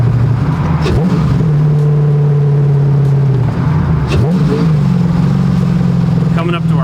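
A 2011 Factory 5 GTM with an LS1 V8 accelerates hard nearby, its loud engine note climbing through two gear pulls with a brief dip between shifts, over steady road and cabin roar.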